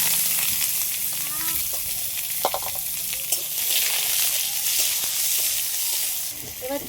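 Cucumber pieces tipped into hot mustard oil tempered with bay leaf, dried red chilli and mustard seeds for a Bengali sour dish, giving a steady close sizzle and fry crackle with a few light stirring clinks.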